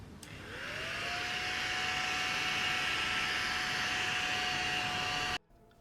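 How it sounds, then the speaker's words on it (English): A small mini handheld vacuum from Temu whirs up to speed and runs with a steady high-pitched whine and airy rush for about five seconds, then cuts off abruptly. "I want you to hear the power of the suction of this vacuum"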